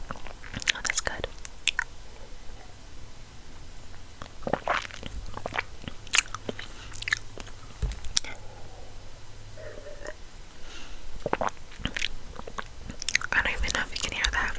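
Snacks being chewed and swallowed up close: irregular crunchy bites and wet chewing across the whole stretch, with occasional soft whispering underneath.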